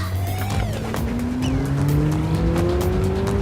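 A fast car in a film sound effect roars past with a rising engine whine and a sharp tire squeal, loud and close, the pitch climbing steadily.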